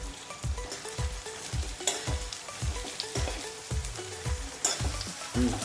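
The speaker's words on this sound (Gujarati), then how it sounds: "આ લસણ ને ડુંગળી બંને મિક્સ કરીશું. હવે આપણે લસણને ચડવા દઈશું." Around 250 grams of garlic plus onion fry in plenty of oil while a spatula stirs them, making a continuous close sizzle with a steady rhythm of repeated scraping strokes roughly twice per second; nobody speaks.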